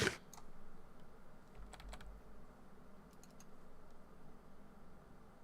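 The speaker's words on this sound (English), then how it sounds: "He must be typing." Computer keyboard typing heard as scattered light clicks and taps during a Minecraft session, sparse and fairly quiet, with a sharp knock at the start and no talking.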